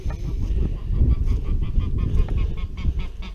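Two unfriendly geese honking repeatedly at close range during early spring, with overlapping harsh calls over a continuous rough, noisy background.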